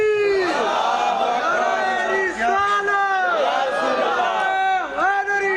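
A large crowd at a religious sermon loudly chants religious slogans in unison, the rising and falling voices running continuously without pause.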